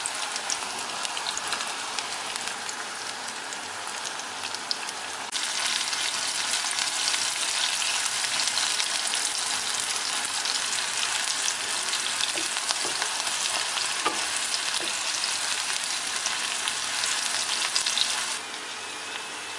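Aubergine frying in hot oil gives a continuous bright sizzle and crackle, slightly louder after the first few seconds, with no talking.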